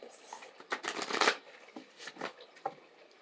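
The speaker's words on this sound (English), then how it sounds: "I'll just give it a few shuffles" Oracle cards are shuffled up close in a few quick riffling bursts, soft papery flutters separated by brief pauses.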